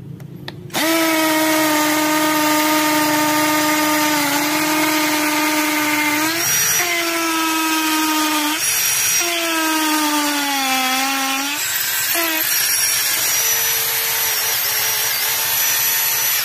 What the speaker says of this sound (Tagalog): So ganyan kalakas yung ating cordless drill na 10mm.